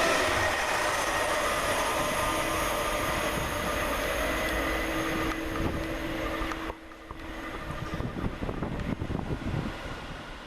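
Class 360 electric trains passing through Flitwick railway station, a loud sustained rumble and rush with whining tones that drops off abruptly partway, followed by rattling wheel noise.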